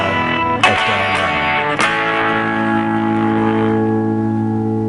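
Distorted electric guitar strums the verse chords of a song, a sustained ringing chord with two sharp restrikes, loud and close, with no voices.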